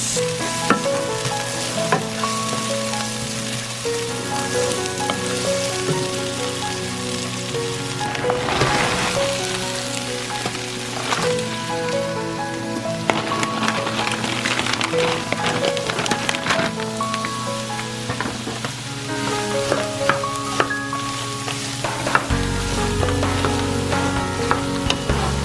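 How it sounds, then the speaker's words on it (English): Food sizzles and crackles steadily in a hot pan for the whole stretch, close and lively, with soft music playing faintly underneath. "I love me a good sizzle."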